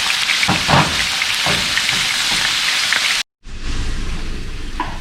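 Grass-fed ground beef sizzles loudly in a hot pan with a steady crackling hiss. The sound cuts out briefly, then returns as a softer, even sizzle.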